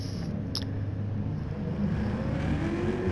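A Citroën race car engine drones steadily at Laguna Seca in a racing video game, a continuous close hum that rises slightly in pitch toward the end.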